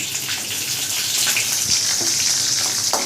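Cumin seeds and green chillies fry in a pan for okra chutney, giving a steady close hiss and sizzle with small crackles and pops throughout, no voices.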